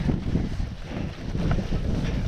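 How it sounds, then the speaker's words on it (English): Wind gusts across the microphone at an exposed loch viewpoint on a narrow peninsula, a loud low buffeting rumble that swells and dips without pause. "wee bit breezy here though."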